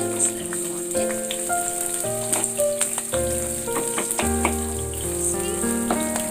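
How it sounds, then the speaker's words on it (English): Finely cut onions and finely slit chilies fry in a pan, a steady close sizzle running under background music. "Let the onions just fry just enough so that the raw taste is gone, but they're still crunchy"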